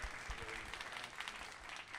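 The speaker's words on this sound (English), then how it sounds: "That deserves a hand clap, for real." Applause from an audience at a fireside chat with Wyclef Jean, a steady soft patter of many hands that holds for the whole stretch, fairly distant and subdued.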